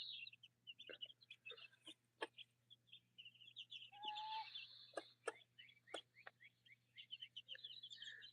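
Chickens in a backyard coop cluck and chatter in scattered bursts, some close and sharp, others softer, with occasional chirps over a low steady hum.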